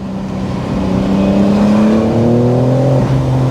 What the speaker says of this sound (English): I'm now gonna give it full throttle here.